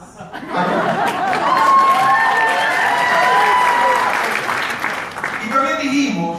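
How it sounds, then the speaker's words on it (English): Audience applause at a live bilingual Spanish and English talk, a broad wash of clapping with some chuckles, while a voice speaks and tonal sounds ride over it before fading toward the end. "Aplausos para Canadá"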